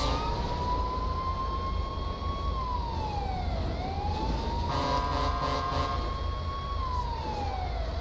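A wailing ambulance siren in a video game rises and falls steadily over a constant engine rumble, loud and close, with a second siren tone joining partway through.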